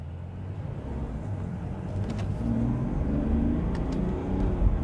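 A 2022 Mercedes GLE SUV's engine builds revs smoothly while driving, a low rumbling drone that swells gradually in loudness, heard from inside the cabin with faint road whir and no talk.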